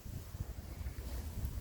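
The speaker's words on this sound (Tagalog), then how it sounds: "Sarap ng hangin." Wind on Mount Parker, a close, low rushing gust buffeting the microphone, rumbling and uneven throughout the short stretch.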